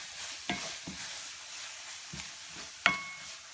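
Spices for chicken biryani, including garam masala and salt, stirred in a pan: several soft scraping strokes and a sharp clink of the spoon against the pan over a quiet, low sizzle.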